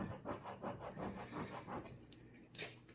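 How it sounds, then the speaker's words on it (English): Vinyl being scraped with a tool to lift it off a DIY Christmas ornament: soft, rhythmic rasping strokes close up and quiet, slowing into a few sparse scrapes near the end. "if it's not lifting all the way, keep scraping till you get it out"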